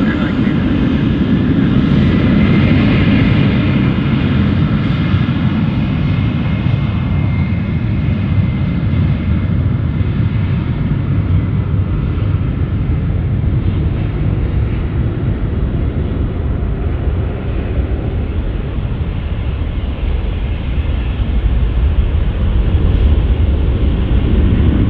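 A fixed-wing aircraft at London City Airport gives a steady, loud engine roar with broad low rumble, sustained throughout alongside wind noise on the microphone.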